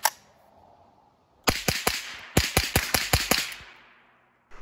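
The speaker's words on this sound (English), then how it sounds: "I'm going to be shooting 10-22 LR bullets at it to simulate multiple ricochets" A burst of sharp .22 LR rifle shots strikes a solid steel safety shield, about ten quick cracks in uneven succession at close range, each with a short metallic ring, followed by silence.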